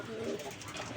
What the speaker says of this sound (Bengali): এই যে কোকা একটা কবুতর দেখা যায়, এটা হচ্ছে নর কবুতর